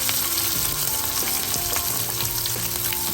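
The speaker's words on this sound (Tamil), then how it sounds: "இனிமே நாங்கள் வெட்டி வைத்திருக்கிற உள்ளியை சேர்ப்போம். கருவேப்பிலையும் சேர்த்துட்டு இனிமே நான் வெங்காயம் சேர்க்க போறேன்." Chopped garlic, curry leaves and onion fry in hot oil for a yam and chickpea curry, giving a loud, steady crackling sizzle with small pops throughout and light stirring.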